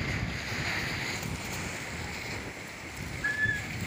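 Steady roar of sea waves mixed with strong wind buffeting the microphone, a constant, loud wash of noise with no voices.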